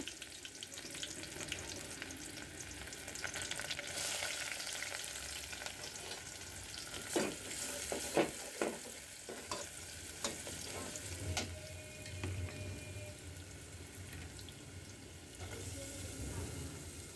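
Dried red chillies crackle and sizzle in hot oil in a home kitchen, a steady broadband fry with occasional sharper pops and scraping stirs, fairly close and moderately loud, with no one speaking.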